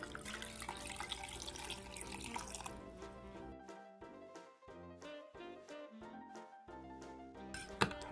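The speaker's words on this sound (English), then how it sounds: "Pour in your hot milk" Hot milk streams into a mug over a hot chocolate bomb, a close, continuous liquid splash that thins into trickling and dripping near the end.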